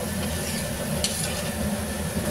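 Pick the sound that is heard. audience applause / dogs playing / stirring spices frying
stirring spices frying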